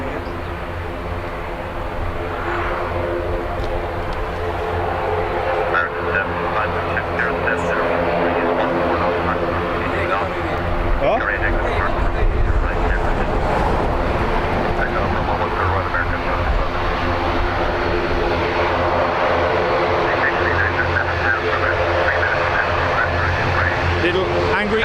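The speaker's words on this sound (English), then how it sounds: "Little angry ATR making loads of noise." ATR turboprop airliner at Dublin Airport running its engines loudly and steadily, a constant droning roar with propeller hum held close throughout, with voices talking over it.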